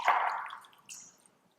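Spiced chai tea strained a second time, with a short close splash of liquid dripping and trickling through a strainer that fades quickly, then a faint second patter.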